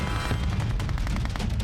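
Cartoon gunfire rattles in a dense, continuous burst of rapid shots, loud and sustained throughout with no clear pauses.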